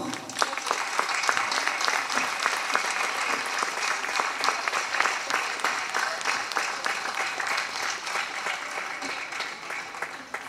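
Audience applause at the opening ceremony of a folklore festival in Barcelos, a dense, even crowd clapping that runs strong and steady throughout without pause.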